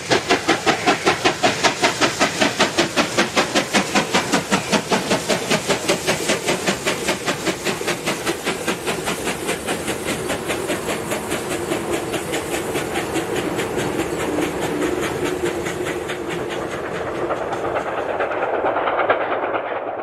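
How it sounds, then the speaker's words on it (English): South African Class 26 and 25NC steam locomotives working together in the late 1990s, with loud, rapid, steady exhaust beats and hissing steam over rolling wheel clatter. The train passes close by, then gradually fades away. "We return to Vicksburg with this Class 26 and 25NC combination."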